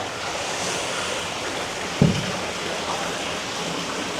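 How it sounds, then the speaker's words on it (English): A steady, continuous rush of splashing water from a cascading water feature pouring into an apartment swimming pool in Sanur, Bali, evenly loud throughout with one brief thump partway through. "nice cascading water features in the back there"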